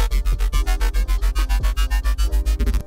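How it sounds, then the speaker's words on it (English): A dry riddim bass synth patch from Serum with no effects pulses in fast, even, buzzy repeated notes with short gaps between hits and occasional pitch drops, loud and alone. "Without all the serum effects on, it just sounds like this."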